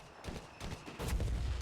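Mortar round exploding in Company of Heroes 3, heard as a short burst of low, crackling blasts that build in loudness toward the end, with game battle noise around it.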